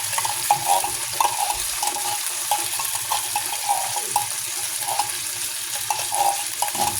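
Corned beef sautéing in a pan for fried rice, a continuous sizzle broken by repeated clicks and scrapes of stirring, moderately loud with no talk.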